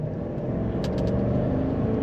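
A 2024 GMC Sierra 1500 Elevation pickup with a 5.3-liter naturally aspirated Ecotec V8 and 10-speed transmission, steady engine and road drone heard from inside the cab while driving, loud and continuous.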